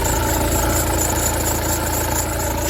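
Skoda Octavia engine running after starting, a steady loud idle with a constant low rumble and vibration, close up under the hood, continuous for a few seconds with no voices.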